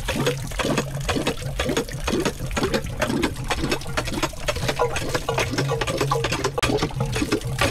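Water drawn by a hand pump splashes and gushes in rhythmic surges, loud and close, with a low mechanical thud repeating under the flow.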